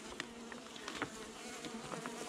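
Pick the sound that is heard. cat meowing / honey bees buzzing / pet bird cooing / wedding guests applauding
honey bees buzzing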